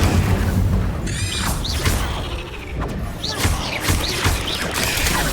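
Spells fire in the Hogwarts Legacy video game on Xbox Series X: a quick run of magical whooshes, booms and sparkling chimes with impact thuds, loud and busy, without speech.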